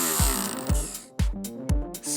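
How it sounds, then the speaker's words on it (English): Crispy banana pieces are whizzed in a small electric herb grinder, heard as several short, close bursts of buzzing and rattling separated by brief pauses. "pop this crispy banana in a little whizzer. Which is just a little herb grinder kind of thing"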